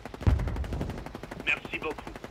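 Bursts of automatic gunfire in the first-person shooter Call of Duty, a close loud volley followed by scattered shots and in-game effects, with a player's voice faintly mixed in.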